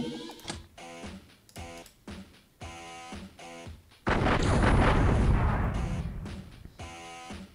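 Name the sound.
gunfire in the video game X-Piratez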